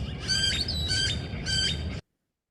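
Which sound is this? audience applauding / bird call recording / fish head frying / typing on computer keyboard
bird call recording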